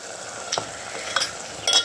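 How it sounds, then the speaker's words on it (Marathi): Mutton frying in a spiced tempering in a home kitchen, a soft steady sizzle under a few brief scraping stirs of a spoon against the pan, spaced roughly half a second apart, with no talking. "आता फोडणीला टाकून दिलेलं आहे हे मटण"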